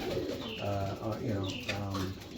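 Racing pigeons coo inside a loft, with several soft repeated throaty calls close by and overlapping, plus faint background chatter.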